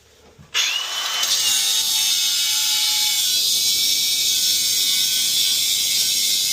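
An angle grinder starts up and bites into an old lead bend on a toilet drain line, a loud continuous high-pitched cutting whine that holds steady to the end.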